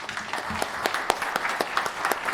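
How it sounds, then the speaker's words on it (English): A small group at a city council meeting in O'Fallon, Missouri applauds, scattered claps rattling steadily for a couple of seconds at moderate volume. "So I'd like to give Officer Brian a round of applause first."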